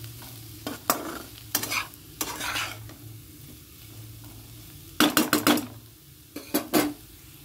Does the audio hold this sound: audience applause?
no